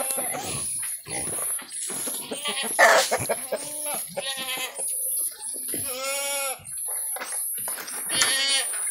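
Several farm goats bleat loudly and repeatedly in long wavering calls, close by, with a person talking between the cries.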